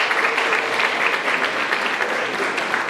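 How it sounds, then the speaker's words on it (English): Audience applause at a 2026 high school senior awards ceremony, a dense steady wash of clapping from a large crowd that fills the whole stretch without pause. "Please hold your applause until the end."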